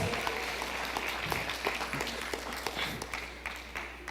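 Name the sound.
congregation applauding in church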